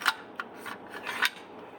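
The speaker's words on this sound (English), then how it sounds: "We're going to put the carrier in here" A rifle bolt carrier group from Sons of Liberty Gunworks slides into an upper receiver fitted with a barrel extension, giving a few sharp metallic clicks and scraping rasps in close, quiet succession.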